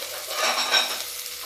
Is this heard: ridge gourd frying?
yes